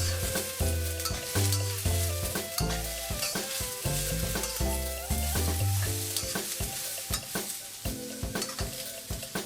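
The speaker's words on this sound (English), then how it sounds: "Add those into the wok and stir those well so the onion and garlic are coating them." Long beans stir-fried in a wok with onion and garlic, loud continuous sizzle with rapid clanging scrapes and ringing metal tones from the wok, close with no voices.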